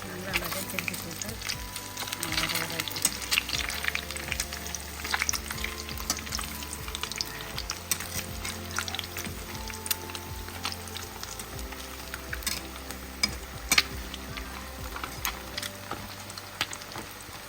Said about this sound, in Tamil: பாருங்கள், எண்ணெய் அழகாக மீன் பஜ்ஜி ரெடி ஆகுது